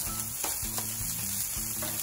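Filet mignon and potatoes frying in meat juices on a Blackstone griddle, a close, steady crackling sizzle with a few sharp spatter pops and faint scraping, no voices.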